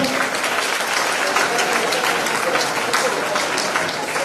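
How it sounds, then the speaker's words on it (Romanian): Loud, continuous applause from a crowd at a Women's Day party held by a political party in Călărași, dense clapping close and steady from start to finish. "Haideți să-l aplaudăm!"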